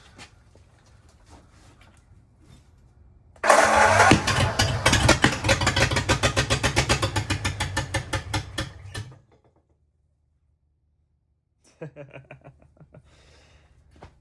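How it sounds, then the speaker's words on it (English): A cheap marketplace flathead V8, choked with throttle slightly open, cranks and catches, then runs loudly with a rapid steady firing rhythm for about five seconds before cutting out; a person talks briefly afterward. "Well, we have a running engine."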